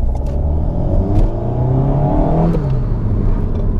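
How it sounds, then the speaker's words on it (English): A 2018 Alpine A110 turbocharged engine revs up close with a deep exhaust burble and rising rumble, then a turbo whoosh from the valve as the revs fall away, loud and unbroken, with no voices. "you get a really nice exhaust burble, but then you also get the kind of whoosh from the actuation valve as well, from the turbo"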